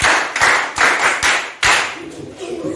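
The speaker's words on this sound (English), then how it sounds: "clap for yourselves" Young children in a literacy classroom clap for themselves in a few uneven bursts of close, sharp claps, tapering off toward the end.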